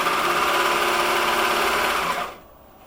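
A serger runs continuously as it sews a rolled hem along the edge of a fabric napkin, a steady close whirring hum that stops abruptly near the end, leaving near silence.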